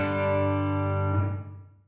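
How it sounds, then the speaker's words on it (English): An electric guitar chord rings through a Headrush Bright Hall reverb set to full mix, a sustained bright tone that swells evenly before trailing off into a long, fading hall tail. "Here it is with the reverb all the way up."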